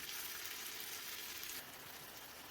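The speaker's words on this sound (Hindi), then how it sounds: "जैसे ही ऑयल गर्म होगा, हाफ के जी स्ट्रिप्स में कट किया हुआ चिकन ऐड करेंगे और ऑयल में अच्छे से मिक्स कर लेंगे" Chicken strips, cut half-inch, frying in hot oil in a pan for malai handi, giving a steady dense sizzle that holds evenly throughout with no talking.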